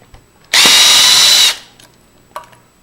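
A power screwdriver whirs for about a second, loud and close, as it backs out a latch screw on a passage lever, followed by a faint click and a brief rattle.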